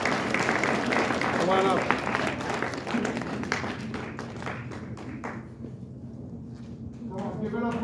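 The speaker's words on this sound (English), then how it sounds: "can we get a round of applause for Officer Wilson?" Audience applause and clapping for a police officer being honored as cop of the month at a gathering, steady crowd clapping mixed with talking voices and a few taps, fading somewhat toward the end.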